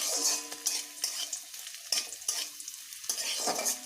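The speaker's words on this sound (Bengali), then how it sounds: "রসুন লঙ্কা ও কালো জিরেটাকে বেশ ভালোভাবে ভেজে নেব" Garlic, chili and black cumin frying in oil in a pan, a close, steady sizzle broken by the scrape and clatter of stirring.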